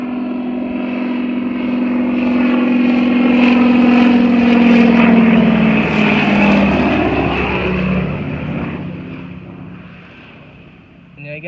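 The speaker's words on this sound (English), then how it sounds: "We got the plane out there spraying it." A crop-dusting propeller airplane passes over corn and bean fields while spraying, its engine drone swelling to a loud peak mid-pass and then fading as it moves away, with voices talking over it.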